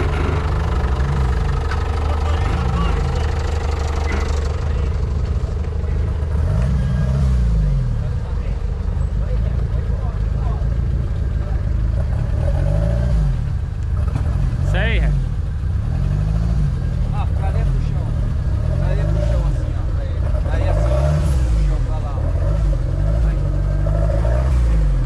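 A car engine idles and revs unevenly while maneuvering slowly on a road at night after rain, with repeated surges and knocking, close and steady, as people talk throughout.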